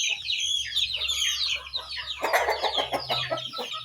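Startled chickens cluck in quick, agitated bursts, close by and fairly loud, with overlapping calls building toward the end over a low background hum.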